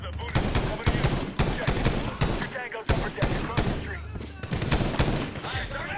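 Rapid bursts of gunfire fill a Medal of Honor (2010) firefight: repeated loud shots and volleys rattle throughout, with a soft voice talking underneath.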